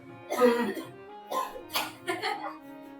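A series of harsh, rough coughs sounds up close, coming in uneven bursts with short pauses between them.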